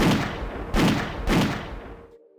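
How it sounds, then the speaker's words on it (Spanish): Three sharp heavy gunshots ring out in quick succession, each with a long booming decay, the last fading into silence. "Alguien nos estaba disparando. Fueron solo un par de disparos"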